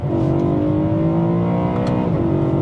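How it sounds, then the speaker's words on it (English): A BMW E92 M3 Lime Rock Park Edition with a naturally aspirated engine revs hard in second gear, its exhaust producing a loud, steady, smooth tone that holds close and continuous before shifting pitch slightly near the end. "And the exhaust is fantastic when you really get on it."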